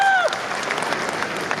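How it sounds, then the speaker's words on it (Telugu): An audience at a film launch event claps, steady dense applause filling the hall, preceded by a brief whistle-like tone at the start, loud and continuous. "వాళ్ళందరి కోసం మళ్ళీ ఒకసారి క్లాప్స్ కొట్టండి"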